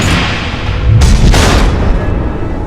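Missiles explode in the Batman Telltale video game, a loud close rumble building into two sharp booming blasts about a third of a second apart, then a deep lingering roar.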